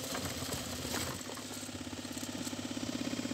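A homemade corn sheller machine runs under test, giving a fairly quiet, steady mechanical hum with a rhythmic rattling beat that grows more pronounced over time.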